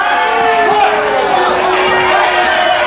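A wrestling crowd at a live show jeers and shouts in dismay as one wrestler tags out to his partner, a loud, dense wall of voices that continues throughout.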